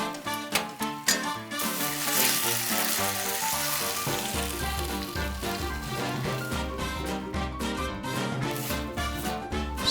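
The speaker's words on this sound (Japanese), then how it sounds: "あまり長々炒めてるとどんどん牡蠣が縮んで、全体が絡まったらさっと撤収や" Oysters sizzle and fry in melted butter and sauce in a pan for an oyster meunière, a continuous close crackle running beneath loud, prominent background music.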